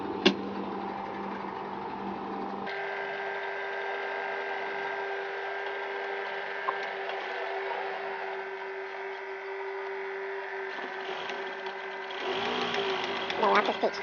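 A sewing machine stitches a wallet with a steady, close electric whir. The pitch shifts partway through and it rattles near the end, while a voice speaks quietly underneath.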